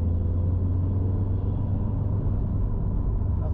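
Subaru GR/VA STI engine pulling under heavier throttle around 3,000 rpm, a steady low droning rumble from inside the car, smooth and even without stutter.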